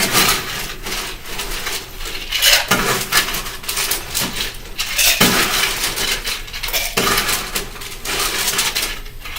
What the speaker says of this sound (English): Next, you need to add ice to this cocktail.